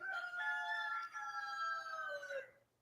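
A black Wyandotte chicken at a poultry show crows a single long cock-a-doodle-doo lasting over two seconds, clear and fairly close, trailing off at the end with no talking.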